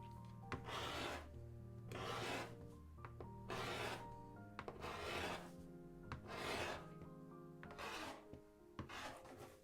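Scrap fabric strips are stuffed by hand into a Regency-style bum roll, giving repeated rustling, rasping bursts about once a second. Soft crinkling pushes come in a steady rhythm, close and alone, with a faint low hum underneath.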